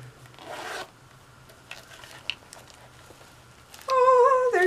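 Gold zipper on a cosmetic bag being opened: a short close rasping zip at the start, then quiet handling rustles and taps, ending with a loud burst of bright tonal sound.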